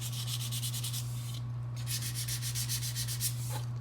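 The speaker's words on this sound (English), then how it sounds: "So I'm just gonna sand that putty down real quick where I messed up" Wood filler putty being sanded by hand on a box-frame tea towel rack, heard as quick, steady back-and-forth rasping strokes with a short pause midway, all over a constant low electrical hum.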